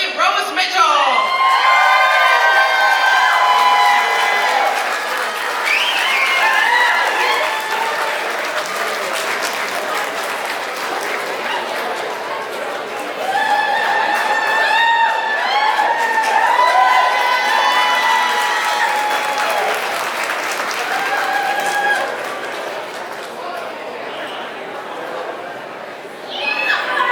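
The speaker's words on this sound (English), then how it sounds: "let's give all these ladies a big round of applause" A crowd at a pin-up pageant in Gleason, Wisconsin applauds and cheers for the winner, with sustained clapping, whoops and high shouts rising in waves over nearly half a minute before easing off.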